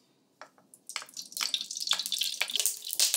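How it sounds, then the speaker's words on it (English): Chopped onion hitting a tablespoon of hot olive oil in a pan, crackling in irregular bursts that build into a steady, close sizzle. "We're going to saute our onion"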